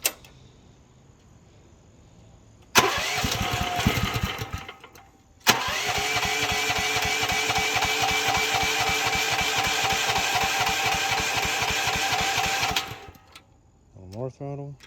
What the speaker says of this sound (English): Let's go less throttle and see if it idles better.